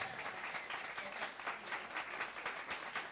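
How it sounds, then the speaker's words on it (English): Audience applause at a live show in a shop, a continuous wash of many hands clapping, faint and distant-sounding, steady across the whole stretch. "Give him a round of applause."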